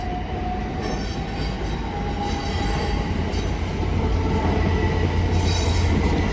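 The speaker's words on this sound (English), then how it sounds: "We've got a GURF 69 coming down, led by 69-006." A GBRf Class 69 locomotive, 69-006, rumbles past at Clapham Junction, its steady loud roar building slightly as it passes, with a low engine drone and rolling wagon noise throughout.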